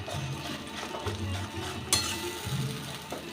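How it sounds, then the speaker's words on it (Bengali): Ginger, garlic and green chili paste fries with browned onions in a pan, a low, soft sizzle broken by a sharp clink of a spoon against the pan and light stirring scrapes, with no talking. "এবার দিয়ে দেবো আদা রসুন আর কাঁচা লঙ্কার পেস্টটা"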